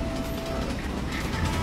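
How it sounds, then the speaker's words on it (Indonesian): A battery-powered toy McQueen train rolls along red plastic track, giving a steady close mechanical whir and rattle of gears and wheels that carries on without pause, with no talking. "Kereta McQueen sudah berjalan di rel yang warna merah"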